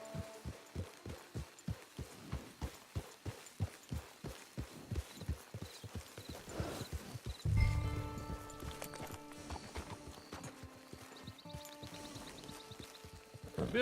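Horse hooves clip-clop steadily on the ground in the video game Red Dead Redemption 2 Online, a regular quiet trotting rhythm that fades as a soft musical score rises.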